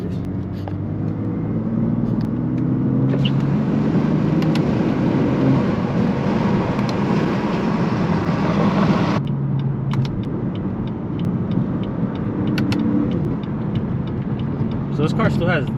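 A tuned BMW F80 M3 with stock downpipes drives on, its engine droning steadily and loudly from inside the cabin, the pitch climbing through a gear, dropping at a shift, then pulling again.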